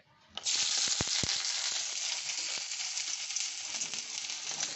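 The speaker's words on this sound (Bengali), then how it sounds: "কুচোনোগুলো দিয়ে দিলাম, হালকা করে নেড়ে নিচ্ছি" Chopped chicken filling for kachori hits hot oil in a wok with a sudden loud hiss, then sizzles steadily while a spatula knocks and scrapes a few times early on.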